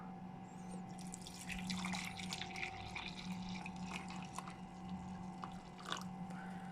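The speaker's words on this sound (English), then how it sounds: "let's pour the coffee in." Eight O'Clock decaf coffee poured from a pot into a cup, a steady faint trickle of liquid lasting several seconds with a constant background hum, heard up close without voices.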